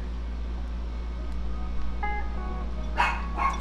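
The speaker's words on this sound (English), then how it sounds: "My dog's starting to bark." A dog barks a few times in the background, two short sharp barks near the end over a steady electrical hum and faint tones, with no one talking.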